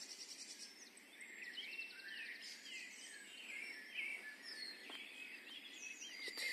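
Several small birds singing at dawn around 4:30 near houses, overlapping chirps and warbling phrases, faint and distant, with a soft outdoor hush and no talking.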